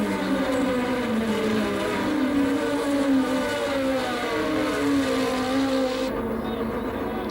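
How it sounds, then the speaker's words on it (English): Formula One race cars of the 1987 Belgian Grand Prix at Spa-Francorchamps scream past, with high engine notes rising and falling in pitch as they pass, steady and fairly loud throughout. "road belongs to Martin Brundle's Zakspeed, but all the cars continue."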